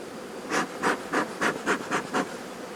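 Honeybees at a hive give seven rhythmic bursts of broadband buzzing, evenly spaced pulses rising and falling against a soft background hum, fairly close, with no voices.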